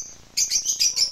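Pet birds chirp in short, bright bursts, several quick tweets following one another close by, with no voices heard.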